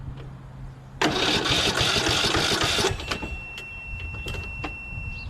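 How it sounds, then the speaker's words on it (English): A Briggs & Stratton 12.5HP SOHV engine on a Poulan XT PXT12538 lawn tractor cranks loudly for about two seconds with the starter whirring, then drops away into scattered clicks and small knocks. "So let's see if it cranks."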